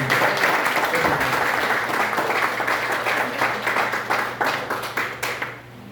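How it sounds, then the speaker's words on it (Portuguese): A church congregation at a missions service applauds in a loud, dense burst of hand clapping that carries on steadily and then fades out over the last second or so. "que você aplaude o Senhor com tudo de melhor que você tem"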